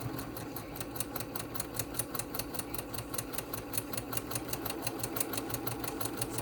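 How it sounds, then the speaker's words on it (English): Steady, rapid mechanical clatter of a sewing machine running continuously at an even pace, close by, with no voices. "Let's take it to the sewing machine."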